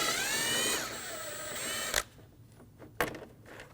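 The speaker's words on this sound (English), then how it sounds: "Using a 10mm socket," A ratchet spinning a 10mm socket on the air dam bolts of a 2019-2025 Ram 2500 with the 6.7L engine, a whirring run with a falling pitch, then two sharp clicks in near quiet.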